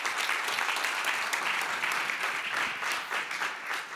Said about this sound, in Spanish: Le hace aplauso.